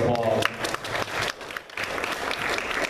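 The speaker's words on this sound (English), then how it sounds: "so let's give her a big round of applause." Audience applause at an AIDS candlelight vigil in Columbus, Georgia, a brief burst of clapping from a gathered crowd, moderately loud and mixed with voices throughout.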